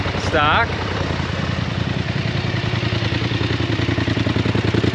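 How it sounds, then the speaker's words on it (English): A Polaris machine with its stock exhaust idles with a steady, rapid pulsing rumble, loud and close, with a brief high squeal near the start. "So we did the start with the stock exhaust"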